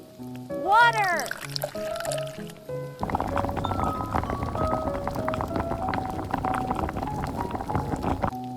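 Water poured into a tiny pot while cooking a miniature sweet and sour octopus dish, a steady close pour running for several seconds after a brief voiced sound at the start.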